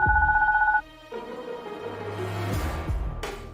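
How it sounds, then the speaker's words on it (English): A phone rings in the video game Deponia: one short, loud electronic trill cuts off abruptly and gives way to quieter game music and sound effects. "my baby phone's ringing"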